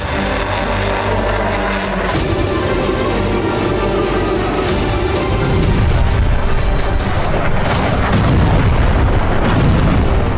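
Russian glide bomb air strikes produce heavy, rumbling explosions, loud booms and thunderous low rolls building over time, with dense layered blasts and a sustained roar growing stronger in the second half.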